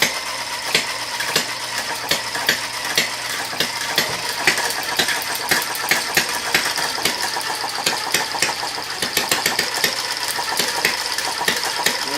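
A Little Brother engine runs steadily, with a busy mechanical clatter and regular ticking, knocking pulses over a constant hum, close and fairly loud throughout.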